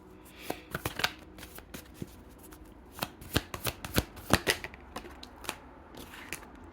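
Tarot cards are shuffled and drawn in a quiet room: a close, irregular run of crisp riffles, snaps and flicks, some sharper than others, with no talking.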